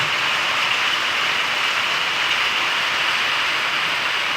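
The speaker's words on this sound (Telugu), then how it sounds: "వర్షం అయితే కొడుతుంది" Heavy rain drums steadily on a tin-sheet shed roof, a dense, even hiss and patter that holds at constant loudness throughout, with no voices.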